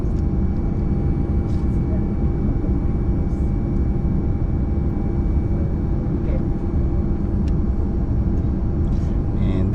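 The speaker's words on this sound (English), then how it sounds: "we're taking off from Boracay Airport here in Katiklan, Malay Aklan in the Philippines" Airplane taking off from Boracay Airport in Caticlan, Malay, Aklan, Philippines, a loud, steady low engine roar and rumble heard from inside the cabin throughout.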